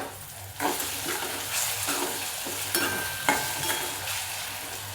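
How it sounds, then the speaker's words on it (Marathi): Onion sautés in a pan, giving a close, steady sizzle and frying hiss broken by soft stirring scrapes, with no talk. "परतला आता कांदा चांगला."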